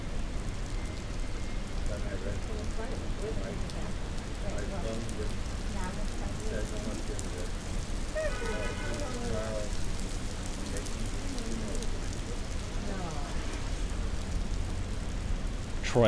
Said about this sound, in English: I didn't think it was going to rain tonight.